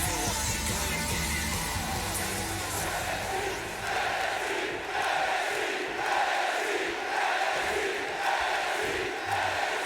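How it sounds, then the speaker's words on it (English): Raucous wrestling arena crowd in the WWE 2K20 video game during an NXT Dusty Rhodes tag team tournament match, a steady loud roar of chanting and cheering with rhythmic swells throughout. "This crowd getting raucous in anticipation."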